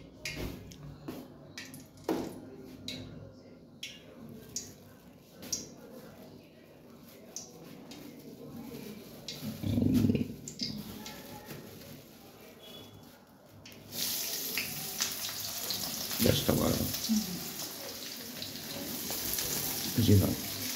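Onions frying in hot oil in a kadai, a soft sizzle with scattered clatter that grows louder and denser partway through, under faint talk.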